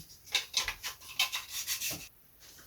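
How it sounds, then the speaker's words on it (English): Plywood on the fuselage side of a model aircraft is roughened by hand, producing about eight quick, faint scraping strokes in a steady rhythm before a short stop. "Just going to rough up this fuselage side slightly because sometimes this plywood just seems a little bit too smooth"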